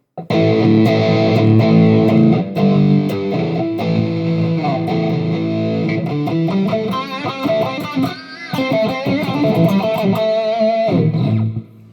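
An electric guitar plays through a Joyo Jam Buddy amplifier set to its Engel 645 distortion channel, with heavily overdriven, sustained chords and single notes ringing out loudly for the whole stretch and no talking.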